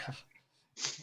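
A single sharp human sneeze bursts out near the end, following a quieter breathy intake, heard close and fairly loud.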